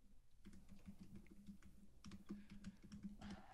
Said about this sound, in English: I'm aggressively typing, which I'm sure you guys can hear because I type like the loudest.